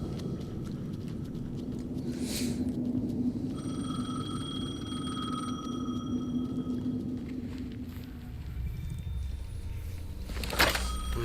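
A telephone ringing in the video game Alan Wake 2, faint repeated electronic ring tones over a low ambient drone, with a few soft knocks and a sharper thump near the end, no speech.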